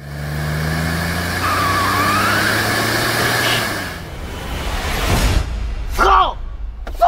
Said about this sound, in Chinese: 车怎么停了？ 加油门啊！